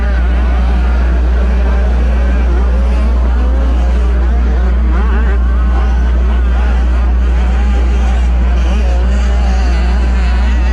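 65cc motocross bikes for riders aged seven to nine race around a beach turn at Loretta Lynn's, giving a loud continuous wash of revving two-stroke engines, with an announcer talking over the din.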